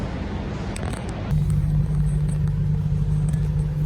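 A heavily modified Aston Martin stunt car, built on a Porsche, idles with a low rumbling engine that steps up and steadies into a louder, even drone partway through.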